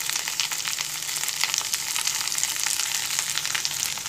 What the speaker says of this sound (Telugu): పచ్చిమిరపకాయలు కొద్దిగా వేగినా బాగుంటుంది, వేగకపోయినా ఏం పెద్ద సమస్య లేదు